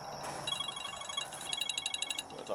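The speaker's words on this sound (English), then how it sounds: "phone's ringing" An indoor telephone rings in quick repeated trilling bursts, moderately faint, with two ringing spells separated by a short pause.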